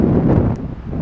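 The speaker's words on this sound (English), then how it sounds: "so you just have to excuse the wind noise." Wind buffets the microphone on a seaside pier, a loud low rumbling roar with gusty swells across the short stretch, no talk.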